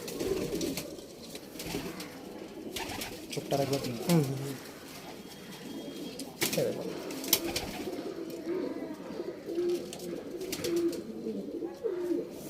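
Pigeons, a pair of well-kept male birds, coo in repeated rolling bursts close by, while someone speaks briefly over them and short handling noises cut in.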